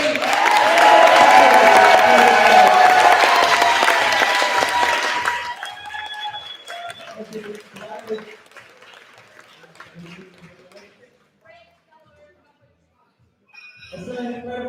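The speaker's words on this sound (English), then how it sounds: "please give Julie one more round of applause" A crowd gives a warm round of applause for Julie at a trans gym event, loud dense clapping and cheering for about five seconds that fades into scattered claps, with a voice speaking afterward.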